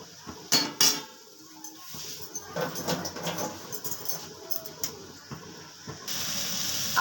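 Lid going onto a pan of frying potato and pointed gourd in a home kitchen: a couple of sharp metallic clinks near the start, then softer clatter and light shuffling of cookware, close and moderately loud, with no talk.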